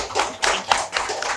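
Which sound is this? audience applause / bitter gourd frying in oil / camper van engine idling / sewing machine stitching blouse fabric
audience applause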